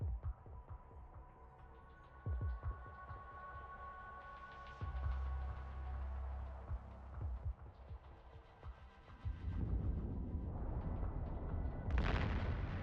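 Ship weapons on a vessel in the space game Eve Online fire on battleships, a series of faint, deep thumping shots and booms over a low throbbing hum, rising into a rougher roar toward the end.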